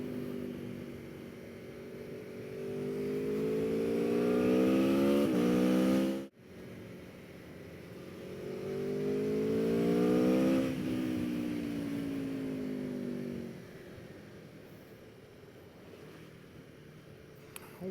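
An Aprilia Tuono V4 1100 Factory motorcycle engine revs hard twice, its pitch sweeping upward with each twist of the throttle and dropping away, loud and close, with a brief cut in sound between the two runs.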